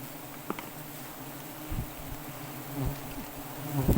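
A swarm of honeybees clinging close by, heard as a faint, steady insect buzz with low hum and a few brief louder passes, no voices.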